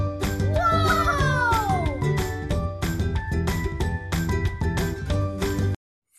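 A cartoonish cat meow rises out of a bouncy children's phonics song, standing clearly above steady backing music with a rhythmic beat.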